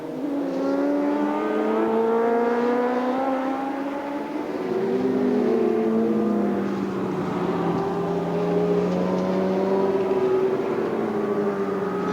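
Racing sidecar outfits at the Lausitzring, engines held at full throttle in a World Championship race, a continuous high-pitched roar with pitch sweeping up and down as machines pass, loud and steady throughout.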